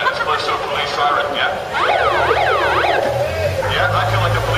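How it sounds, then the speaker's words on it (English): A wailing police siren sweeps up and down in repeated cycles through the middle, loud over steady traffic and crowd noise at Canary Wharf, London. "It's close to a police siren"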